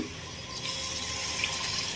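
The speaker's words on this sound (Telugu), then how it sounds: "ఇప్పుడు ఇందులోకి మనం సరిపడినంత వాటర్ని యాడ్ చేసుకొని" Water is added to a simmering curry of brinjal with tender tamarind leaves in a pan, a steady soft rushing pour that continues throughout.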